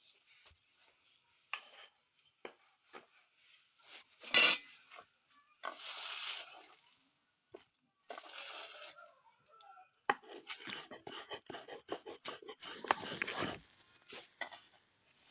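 Neem leaves being ground into a fine paste, heard as intermittent close scraping and rubbing bursts separated by quiet gaps, with a few sharp knocks along the way.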